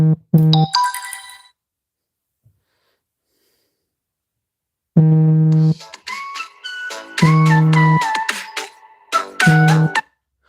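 A phone rings in repeated tonal bursts, one near the start and three more closer together after a pause, loud and clear with no voices, in a room where a Kyosho Inferno MP10TE RC car is being built.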